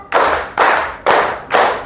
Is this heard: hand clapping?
yes